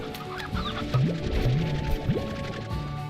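Rooster clucking in a video game: a series of close, loud clucks and squawking calls with upward-sweeping tones, scattered across the stretch over a steady game background.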